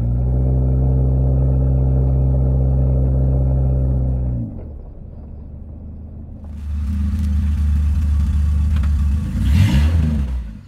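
Car engine with a faulty automatic transmission drones loudly at high revs with the accelerator floored, then cuts off abruptly and settles into a lower rumbling run with clattering and a final surge, no talk.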